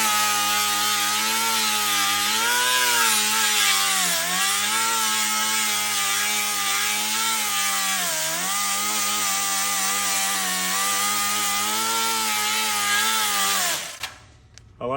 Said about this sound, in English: So getting ready to put the grinder to it and the DA